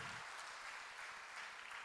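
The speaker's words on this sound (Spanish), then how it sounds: "Vamos a dar un aplauso de bienvenida a cada persona que el Señor ha traído esta" A church congregation applauding in welcome, a steady, even wash of many hands clapping at a fairly faint, distant level throughout.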